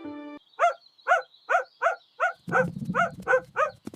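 A dog barks in a quick, even series of about nine sharp barks, close by, with a low rumbling noise rising behind the later barks.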